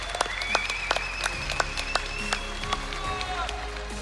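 An audience at a Web Summit Rio startup stage event bursts into lively applause with sharp, scattered claps, while a presenter's voice carries over the top.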